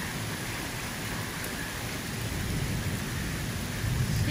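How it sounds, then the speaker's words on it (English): Steady heavy rain hisses continuously at a moderate distance, a dense even wash with a low rumble underneath. "Lots of lightning, thunder."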